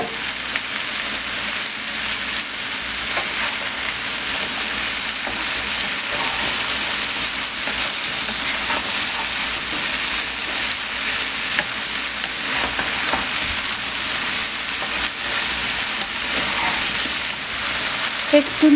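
Bottle gourd fries in a pan for a prawn ghonto, giving a loud, steady, close sizzle that runs unbroken throughout, with faint stirring scrapes mixed in.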